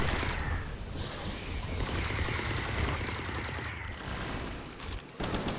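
Laser cannon gunfire from the video game Palworld, a dense, continuous barrage of rapid shots that keeps going for several seconds with mechanical clatter, cutting off briefly near the end.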